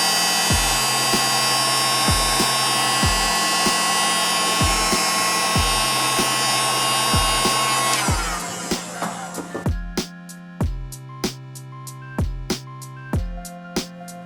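A heat gun blowing over heat shrink tubing on a mini FPV racing quadcopter wiring harness, a loud steady whirring roar that cuts off partway through, with a rhythmic ticking beat heard throughout.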